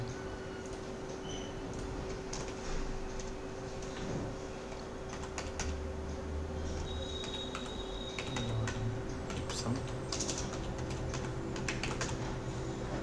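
Fingers type text on a computer keyboard while working in CorelDraw, a quiet irregular patter of key clicks that runs nearly continuously, close to the microphone and with no voices.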